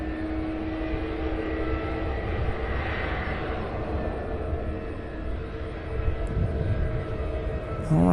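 An airliner taxiing at Cincinnati CVG airport, a steady jet engine rumble and whine heard from nearby outdoors, holding level with a faint tonal hum and a slight swell near the end.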